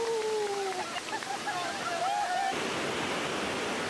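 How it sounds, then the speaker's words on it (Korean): Iguazu Falls pours down onto a tour boat in a steady, heavy roar of rushing water. Faint shouts rise briefly over the noise before the downpour surges louder and fills everything. "태어나서 처음으로 폭포물을 직접 맞아봤다."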